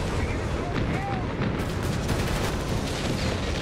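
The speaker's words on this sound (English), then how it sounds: "Alright, here comes the recce artillery." Recce artillery barrage in the video game Company of Heroes 3, dense rumbling explosions and booms in a continuous loud wash of battlefield noise.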